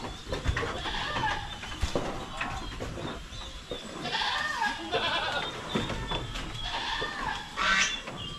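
Several goats, including pregnant does, bleat repeatedly at close range, overlapping calls spread across the clip with some background rustling.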